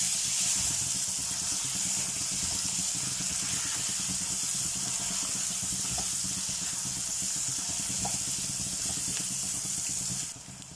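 Chopped tomato added to a hot pan for Assamese-style goat mutton curry, giving a continuous, even, close sizzling hiss that lasts throughout and eases off at the very end.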